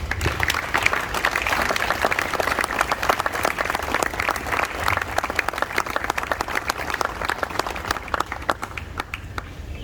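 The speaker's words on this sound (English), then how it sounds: "Give them a big round of applause." Sustained applause from a school audience at an investiture ceremony, dense steady clapping filling the hall and holding strong for the full stretch before easing slightly at the end.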